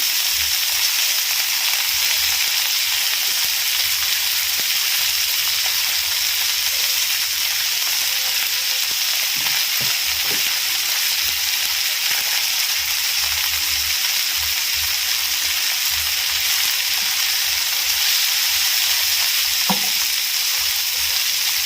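Chopped leafy greens hit hot oil in a frying pan, producing a steady, loud, even sizzle with a bright hissing texture that continues without letup, accompanied by occasional faint stirring clicks.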